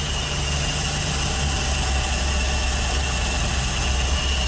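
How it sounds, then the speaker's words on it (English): A car engine idling roughly after carburetor work on a vehicle with a new fuel tank, a loud, steady close rumble with uneven low throbbing and no talk. "it's running terrible really at idle"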